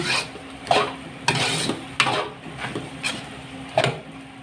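Cabbage being tossed into pancit bato in a pan, with a utensil scraping and stirring in repeated bursts roughly every half second to second, close and fairly quiet with no talking.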